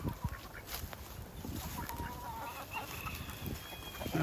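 Chickens of several breeds, including Jersey Giants, clucking intermittently at moderate distance on a farm in Columbia, South Carolina, short scattered calls over faint background noise.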